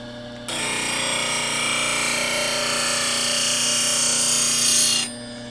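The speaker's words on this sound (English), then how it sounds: "How much you roll as you're sharpening and how you roll depends on the different flute shapes." A woodturning gouge is sharpened on a bench grinder with a platform tool rest, giving a steady, loud, close grinding rasp over the motor's hum that starts abruptly and stops about five seconds later.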